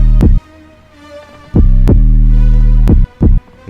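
Deep 808 sub bass notes from a trap beat programmed in LMMS, booming long and loud in three sustained hits with short gaps, alone with no talk.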